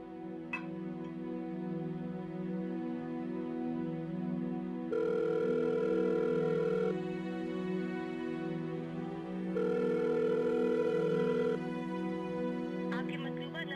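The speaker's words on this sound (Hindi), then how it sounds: "फोन नहीं उठा रहा मेरा" A phone call rings unanswered in a Pakistani TV drama scene, with repeated ringback tones pulsing in long bursts over a steady background hum, moderately loud and without speech.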